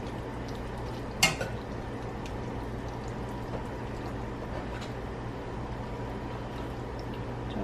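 Alfredo sauce being stirred into pasta in a pan, a soft steady scraping and swishing with one sharp utensil clink against the pan near the start, no talking.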